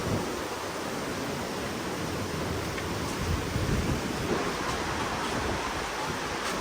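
A steady, broad roar of rushing water from a waterfall at Wawa Dam with gusty wind buffeting the microphone, constant and loud throughout.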